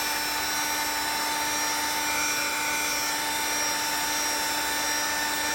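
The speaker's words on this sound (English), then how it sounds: "I'm going to heat around the perimeter of this, holding my heat gun tip about at the tip of the" Constant loud blowing whine of a heat gun running nonstop, held near a metal glide pin while shrinking material, with steady tonal hum and airflow hiss and no talking.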